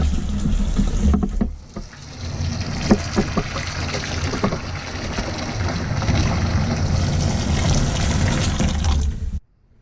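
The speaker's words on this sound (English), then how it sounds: "then I'm going to run some hot water" Hot tap water gushes steadily onto billiard balls soaking in soapy water, a loud continuous splash with a few knocks near the start that stops abruptly at the end.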